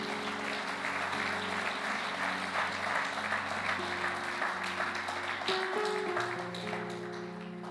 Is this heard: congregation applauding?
yes